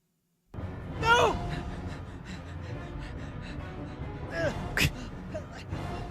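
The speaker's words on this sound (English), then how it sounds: "Why is he breathing like that?" A video game trailer character breathes heavily with gasps, strained audible breaths rising and falling against a dense sound bed, with a couple of sharper gasping peaks near the start and middle.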